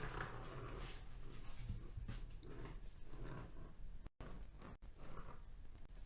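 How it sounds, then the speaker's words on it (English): A dog plays with a chew toy close by, making rough, breathy snuffles, chewing and scuffling noises in a steady, busy jumble. A brief dropout cuts in near the end. "My dog is playing with the screw toy."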